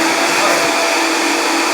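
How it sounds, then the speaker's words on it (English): A kitchen blender runs steadily, blending olive oil for a Caprese salad dressing, a loud continuous motor whir with no talk over it. "We got that good blender here. You can blend up a little more."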